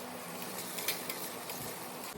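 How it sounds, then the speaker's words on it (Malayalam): Shallots and bitter gourd being sautéed together in a frying pan for a Kerala-style shallot curry, giving a steady low sizzle with faint stirring scrapes throughout. "അരിഞ്ഞു വെച്ച ഉള്ളിയും പിന്നെ പാവയ്ക്കയും കൂടെ ഒരു ചീനച്ചട്ടിയിലേക്ക് ഇട്ട് വഴറ്റാണ്"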